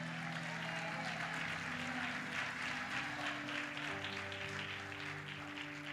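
A church congregation claps for the Lord during a sermon, a dense, sustained wash of applause that carries for about six seconds over a steady low musical drone.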